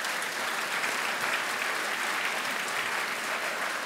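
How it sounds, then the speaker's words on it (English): An audience at a US Marine Corps anniversary event applauding performers, a thick, even roar of many hands clapping at once, steady and full for about four seconds with no break. "Please join me in a round of applause for them again."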